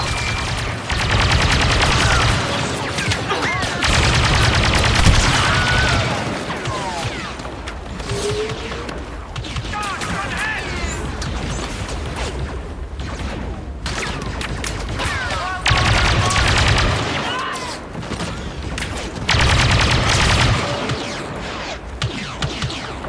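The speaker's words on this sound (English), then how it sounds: "More detonators. More explosions!" Dense bursts of gunfire and booming explosions from Star Wars Battlefront 2 on PS5 roll on continuously, loud and layered, with heavy rumbling swells and rapid crackling shots throughout.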